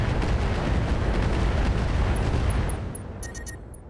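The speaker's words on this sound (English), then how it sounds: "they're shooting their rockets at the Orion now" Mechs in the video game RogueTech firing rockets: a sustained, loud, roaring barrage of rumbling blasts that fades near the end, leaving a few faint high electronic tones.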